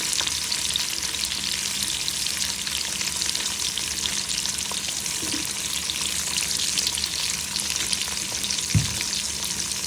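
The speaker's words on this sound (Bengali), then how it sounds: "এখন একটু ভেজে নেব।" Beef tripe fries with fenugreek, cardamom and salt in a pan, giving a steady, dense sizzle and crackle with occasional stirring, close and continuous with no voices.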